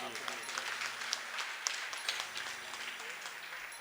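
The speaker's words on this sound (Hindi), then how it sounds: "एक बार जोरदार ताली आपके लिए" Faint applause from an audience at an International Yoga Day gathering, a soft, distant patter of clapping with a few sharper claps, heard alongside voices and background sound.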